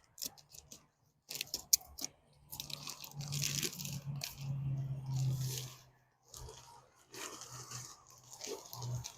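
Scissors crunch and snip through a plastic bag of garden soil in several quick cuts, with crinkling and rustling close by.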